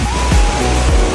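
Waves washing onto the seashore in the Maldives, a steady close rushing surf with low surges that swell and recede through the short stretch.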